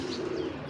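Giribaz pigeons coo close by, a short low steady cooing note with a light chirp above it, heard alone without talk.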